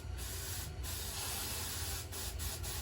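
Starting fluid sprays in a steady hiss into the carburetor of a Troy Bilt TB516 EC trimmer, several short bursts separated by brief pauses, close and with no talk.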